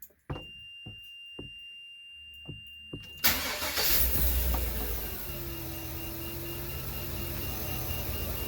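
A GM 8.1-litre Vortec V8 cranks after a few faint clicks and beeps, catching about three seconds in and settling into a loud, steady idle with a low droning hum close by.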